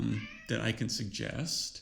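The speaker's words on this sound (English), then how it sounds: "That's my cat in the background" A house cat meows a few times in the background, its short cries mixed with someone talking over them in an indoor room.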